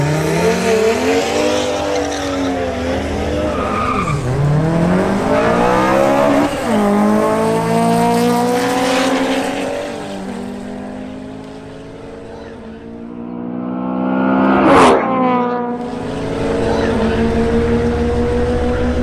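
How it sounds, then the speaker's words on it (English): A BMW M440i xDrive launches on a drag race run, its engine climbing hard through repeated upshifts with rising and falling roars and a brief tire squeal, loud and near with a fainter voice faintly underneath. "Now presenting Julian Prado in his BMW M440i xDrive for another run"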